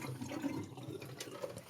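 Water trickles steadily into the tray of a Norcold RV ice maker, a faint, low continuous flow with no voices.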